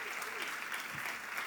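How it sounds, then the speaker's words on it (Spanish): Applause in a church congregation for the pastor's wife, a steady dense patter of clapping throughout, with a voice speaking over it. "denle un aplauso a mi esposa"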